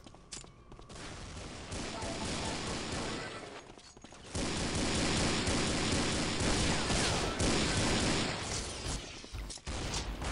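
Heavy weapon fire in Unreal Tournament 2004 with the Ballistic Weapons mod, a dense, noisy barrage of rapid shots and blasts that drops briefly near the middle, then returns louder and keeps going.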